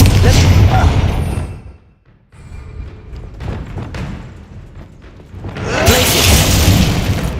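A Confringo blasting spell in the Hogwarts Legacy video game sets off loud booming explosions, a heavy blast, a short lull, then rumbling bursts swelling again, with voices mixed in.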